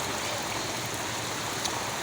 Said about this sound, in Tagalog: Talagang umaapaw yung tubig guys.